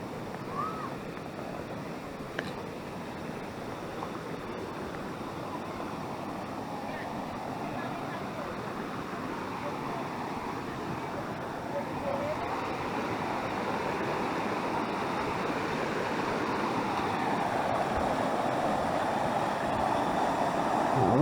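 Water flowing down through a channel into a lagoon at Lagunas de Ruidera, a steady broad rush that grows slightly louder toward the end, heard up close with faint voices at times.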